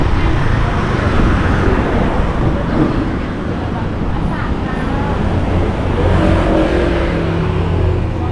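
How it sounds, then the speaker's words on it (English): Heavy traffic rumbles continuously along the busy main road behind the beaches in Kata, Phuket, with engines revving and vehicles passing close by, loud and unbroken throughout. "this is pretty busy here with all the traffic"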